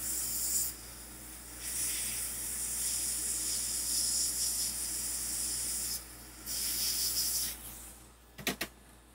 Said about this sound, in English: Hot air at max air is going to get rid of that very quickly.